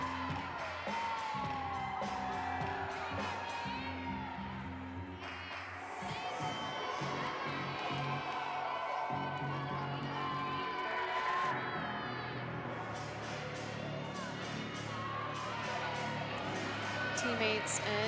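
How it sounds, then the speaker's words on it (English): Teammates and coaches cheer and shout encouragement for a gymnast's floor routine at a college meet between New Hampshire and Michigan State, a sustained noisy crowd with whoops rising and falling, under a commentator talking throughout. "Teammates and coaches cheering Delaney on here to finish out this routine and hit this last tumbling pass"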